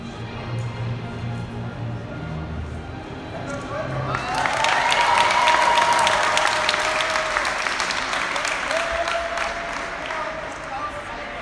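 A crowd at a Berlin gymnastics competition bursts into applause and cheering partway through a routine, the clapping swelling loud and dense after a quieter stretch of murmuring and speech.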